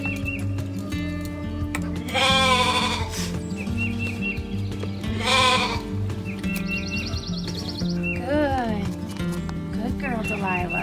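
Several loud sheep bleats, wavering and drawn out, come in bursts close by over a low steady hum, with shuffling and a few other farm sounds between, as a ewe is milked.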